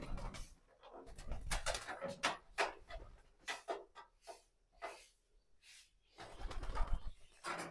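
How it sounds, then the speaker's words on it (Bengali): Pigeons released outside their loft coo faintly in scattered bursts, mixed with soft rustling and wing flutters in a quiet setting. "কবুতর গুলা বাইরে রেস্ট করুক।"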